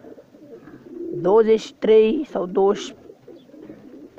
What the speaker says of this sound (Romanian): Aici dețin eu porumbei de matcă.